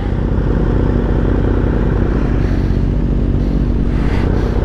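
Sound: Kawasaki ZX6R KRT motorcycle riding

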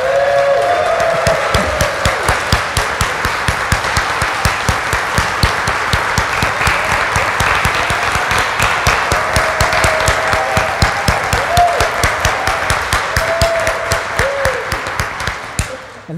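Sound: congregation applause in church service

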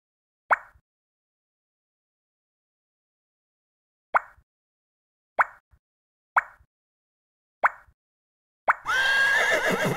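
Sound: horse neighing in an iPhone shape builder puzzle game

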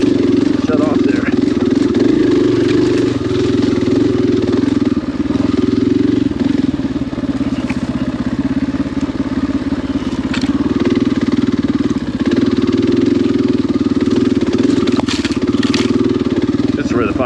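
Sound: 500 motorcycle engine puttering at low speed

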